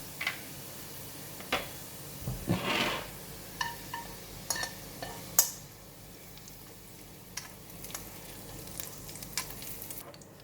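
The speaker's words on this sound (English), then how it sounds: "I'm going to switch off the heat and remove it from the pan as well" Crisp browned garlic scooped out of a hot pan with a spatula, with soft sizzling, scrapes and light clicks of the utensil against the pan, close up and fading to quieter ticks.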